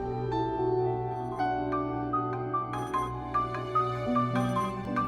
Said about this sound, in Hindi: फरियाल का फोन आ रहा है।